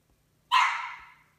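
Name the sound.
puppies barking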